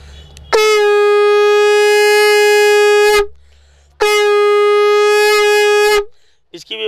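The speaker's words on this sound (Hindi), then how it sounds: "ये 7 इंच का संग, ये 1500 रुपए का, ये विष्णु संग है।" A 7-inch Vishnu conch shell sounds two long, loud, sustained blasts of roughly two and a half and two seconds each, separated by a short pause, close and with no talk over them.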